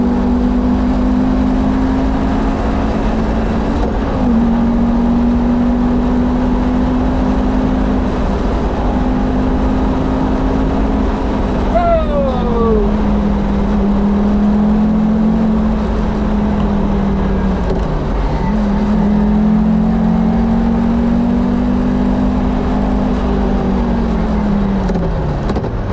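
A Donkervoort D8 GTO lapping the Nürburgring, its engine holding a steady, loud drone throughout, with pitch sliding down and back up through shifts and a brief whine midway, no talk over it.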